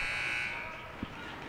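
At a girls' high school basketball game, the buzzer ending the third quarter sounds as a short, bright electronic tone lasting about half a second, fading quickly into arena noise and commentary.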